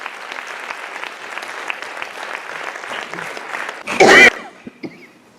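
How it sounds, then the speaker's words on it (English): An audience claps warmly and steadily to welcome Dr. Khadar Vali, a dense roomful of applause that ends in a sudden loud thump and a few scattered claps. "Let us all extend a warm and enthusiastic round of applause to welcome"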